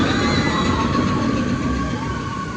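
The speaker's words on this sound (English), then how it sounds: "It literally makes train noise when it goes by." Disneyland's mine train ride rolls by on its track, a loud, continuous rumbling clatter of wheels on rail close by, with crowd noise underneath.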